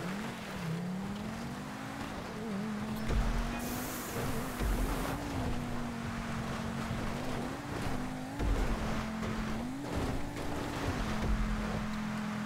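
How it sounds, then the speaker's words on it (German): A monster truck in GTA V Online rolls backwards down a hill, its engine droning steadily with wavering pitch under rumbling terrain and wind noise. "ich fahre rückwärts den Berg runter"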